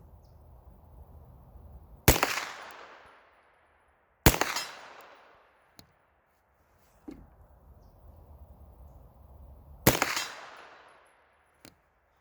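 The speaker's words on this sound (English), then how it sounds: "we'll take some shots at steel up here" A Ruger PC-9 carbine fires three sharp, loud shots outdoors at steel targets, each shot followed by a fading echo, with fainter metallic clicks and impacts in the quiet gaps between them.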